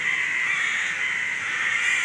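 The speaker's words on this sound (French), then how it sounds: "mais les corbeaux sont de Alfred Hitchcock ici" Crows cawing together in a continuous, busy chorus, steady and fairly loud with no pause.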